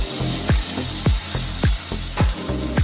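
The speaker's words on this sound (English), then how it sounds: "now you just use your spatula to scrape off any that could be stuck on the lid" A spatula scrapes cooked fish sauce of ginger, garlic and tomato paste off a pot lid in about six loud, evenly spaced rasping strokes, close up with no talk.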